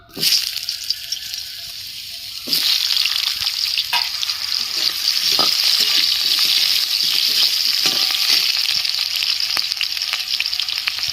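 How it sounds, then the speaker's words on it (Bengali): Potatoes frying in hot oil, a steady broad sizzle that jumps louder after a quieter start and stays dense, with occasional stirring clicks and scrapes near the pan. "আলুগুলো আমি ভেজে নিচ্ছি"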